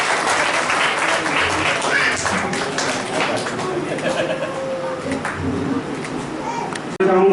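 A crowd at a disability self-reliance organization's event in Nagda claps as staff are welcomed with new cards, a continuous wash of applause mixed with murmured talk, thinning toward the end.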